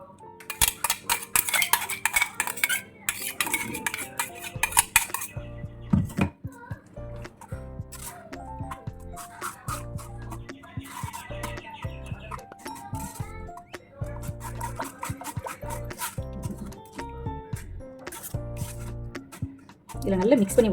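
A utensil stirs and scrapes through crushed grapes in a bowl for homemade grape jam, making rapid clicking and wet swishing sounds that stop and start, sometimes under a speaking voice.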